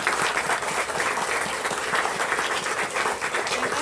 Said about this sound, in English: let's give Tayari Jones an applause